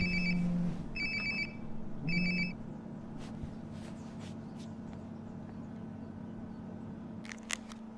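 A phone rings in Life Is Strange: Before the Storm, three short electronic trills spaced about a second apart against a steady game background hum, with a few faint clicks after the ringing stops.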